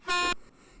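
A single short, loud toot from a hand-held horn blares for about a quarter second and then cuts off to near silence.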